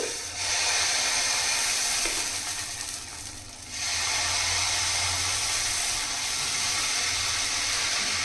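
Dosa batter spreading on a hot pan, giving a steady broadband hiss and sizzle that dips briefly midway before resuming, close and continuous with no talk.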